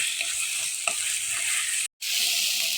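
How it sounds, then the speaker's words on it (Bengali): Spice paste and boiled potato chunks sizzle and fry steadily in a pan, a continuous close hiss with light stirring scrapes, briefly cut out for a moment near the end before resuming. "এখন আমি ভালো করে মশলাটা কষাতে হবে।"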